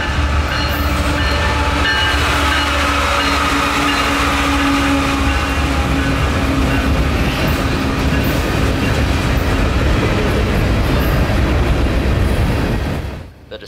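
A mixed freight train rolls past at close range on a southbound run, a loud, steady rumble with clattering wheels and rail noise lasting throughout before cutting off abruptly at the end.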